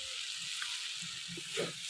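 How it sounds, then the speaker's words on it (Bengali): Steady, crackling sizzle of vegetables frying in a hot pan, a continuous hiss with a few faint knocks underneath. "এই দেখেন সবজিগুলো কত সুন্দর ভাবে ভাজা হয়ে গেছে।"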